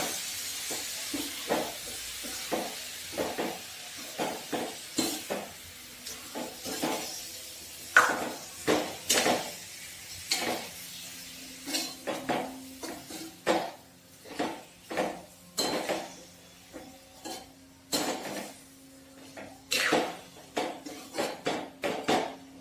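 Tomato chutney being mixed in a pan, with a spoon striking and scraping the metal in a steady run of close, sharp clinks and short scrapes, no voices.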